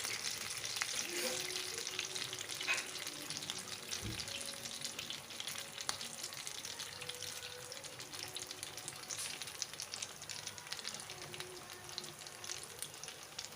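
Paneer doughnuts fry in hot oil, giving a steady close crackling sizzle throughout with scattered pops and bubbling, no voices over it.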